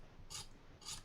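Two short, quiet scraping strokes on a plastic part of a 1/150 scale Revell Wasa model ship, close and faint, separated by a brief pause.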